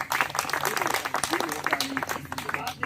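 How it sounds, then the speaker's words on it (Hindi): An audience at a natural-health training session in a district jail breaks into brief applause, a short burst of scattered clapping close by with voices mixed in. "ताली बजाए एक बार और इनके लिए"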